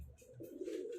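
A single soft, low coo from a pigeon, part of a flock of fine pigeons kept by a breeder in Faisalabad, heard close and alone, lasting about a second.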